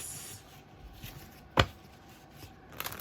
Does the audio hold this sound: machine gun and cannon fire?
no